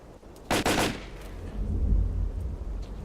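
A gun fires in the video game STALKER: Call of Pripyat, a short loud burst of a few rapid shots near the start that leaves a low rumbling tail fading out over the following seconds.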